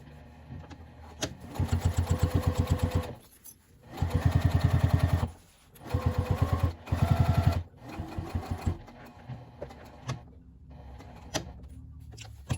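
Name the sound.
sewing machine top stitching a pocket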